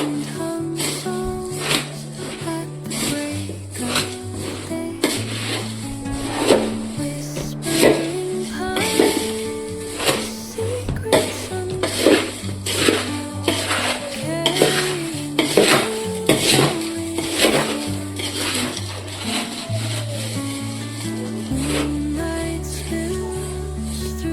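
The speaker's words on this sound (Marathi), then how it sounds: "सगळं मुरमुऱ्याचं पाकिट चिवड्यासाठी ओतलेलं आहे वरून परत शुभंगी तो मसाला बनवलेला टाकत आहे" A spoon clatters and scrapes steadily against a metal pot as spice masala is stirred into a whole packet of puffed rice for bhadang maka chivda. The close, busy clinking runs throughout with no speech.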